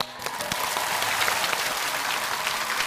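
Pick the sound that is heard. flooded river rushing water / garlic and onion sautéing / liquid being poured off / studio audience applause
studio audience applause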